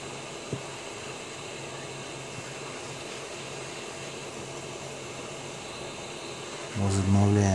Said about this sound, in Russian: Включаем фен, прогреваем двусторонний скотч.